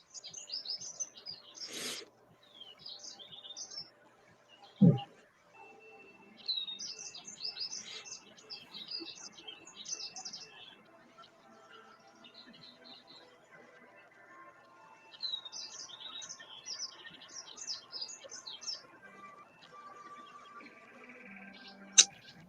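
Birds chirping in quick high bursts throughout, moderately near, over a quiet background with a couple of sharp knocks.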